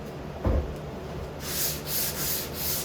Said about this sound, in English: Now I'll just do a light sanding on the primer